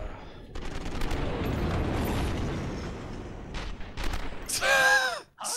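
Gunfire rings out in a cop simulator video game, a dense rattling burst of shots and mechanical clatter, followed by a few sharp separate bangs and a brief tonal effect at the end.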